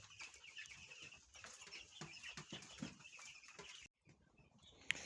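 Broiler chickens, thirteen days into raising, cluck and chirp continuously as a dense, faint flock chorus at feeding time, with a brief pause near the end.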